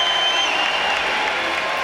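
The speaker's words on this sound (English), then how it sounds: "And Kiwi gets a nice round of applause." A crowd at a Santa Cruz Warriors basketball game applauds a player checking in, a steady broad roar of clapping and crowd noise filling the arena with no gaps.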